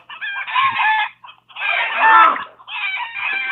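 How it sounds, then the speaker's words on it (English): Chickens cluck and a rooster crows in three loud, close bursts with brief pauses between them, heard alone without talk. "Chicken's going off."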